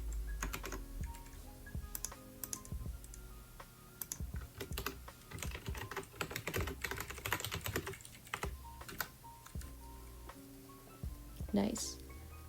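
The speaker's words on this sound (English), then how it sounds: "you're gonna get a chance to hear the nice ASMR clicky sounds of my keyboard" Clicky computer keyboard typing runs steadily up close in a quiet room, with irregular bursts of sharp keystrokes and brief pauses, and no talking over it.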